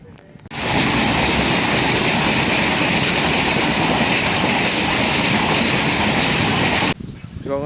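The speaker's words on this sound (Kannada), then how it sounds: "ಇವಾಗ ಒಂದು ಟ್ರೈನ್ ಹೋಯ್ತಲ್ಲ" A train roars past close by, a loud sustained rumble and rattle that starts abruptly, holds steady for several seconds, then cuts off sharply.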